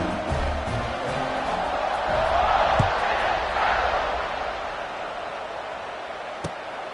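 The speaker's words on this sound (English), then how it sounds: "this crowd is buzzing after that last score." A football stadium crowd buzzes before kickoff with a broad, sustained roar that swells in the middle and then eases, a few sharp thumps and claps cutting through the distant din.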